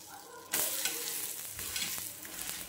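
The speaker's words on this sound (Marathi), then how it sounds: "आता आपण आपल्या थालीपीठाची बाजू पलटून घेऊया हळूच कणी, कारण खाली अजूनही तेल असतं।" A thalipeeth flatbread is flipped in a pan of oil, and a sharp rise of hissing, crackling sizzle follows that stays loud and close, broken by a few spatula scrapes.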